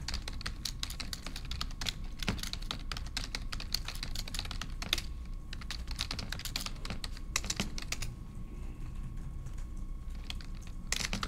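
Continuous rapid typing on a computer keyboard while writing Haskell code, with dense, irregular key clicks and occasional heavier strokes close by, running for the whole stretch with no voice.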